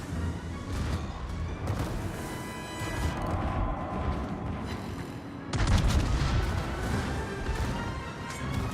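Naval cannon fire in World of Warships: a dense, continuous barrage of booming gun blasts with crashing impacts, steady throughout and swelling louder for the final few seconds.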